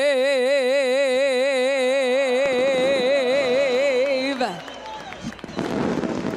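Crowd cheering and applause erupts loudly at Eldora Speedway, a dirt oval race track, right after a sung anthem's final held note fades out, the noise swelling into a dense, continuous roar from a large outdoor audience.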